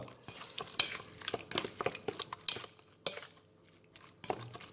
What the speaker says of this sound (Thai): หอมจริง ที่คนข้าวคั่ว